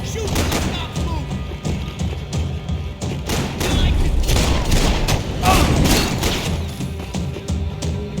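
Heavy gunfire in the video game Max Payne 3: dense, overlapping volleys of shots and booming impacts ring out steadily throughout, loud and close, with a busy, chaotic texture.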